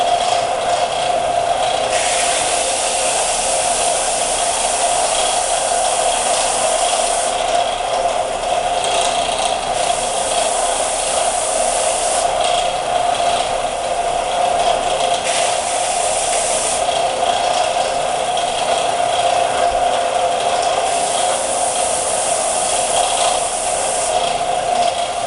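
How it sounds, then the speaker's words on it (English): A belt sander grinds down turkey feather fletching with a loud, steady, harsh whir and scraping roar that runs continuously up close, with slight surges in pitch as pressure changes. "Then I come over to my belt sander here. It's going to get noisy, so bear with me."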